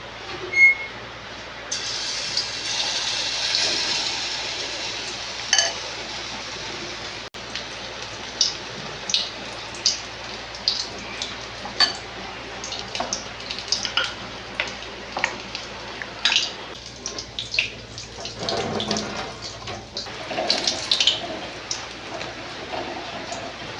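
Batter-coated potato fritters drop into hot oil, producing a dense crackling sizzle that starts after a quiet opening and continues with sharp pops and bursts of spatter throughout, close and loud, with no speech.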